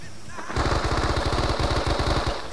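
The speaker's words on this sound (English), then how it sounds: "Stay low, that's live fire." Sustained machine gun live fire during a training level of the Men of Valor video game, a loud rapid rattling burst of evenly spaced shots that starts abruptly and runs for about two seconds.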